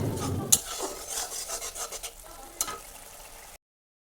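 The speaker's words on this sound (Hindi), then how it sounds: "स्वाद अनुसार नमक और हल्दी देने के बाद इसको फिर से आप चलाते रहो ताकि जल ना जाए।" A spoon scrapes and stirs saag with turmeric in a pan, giving soft rasping strokes with a couple of sharper metallic clinks, quiet and close, without talk.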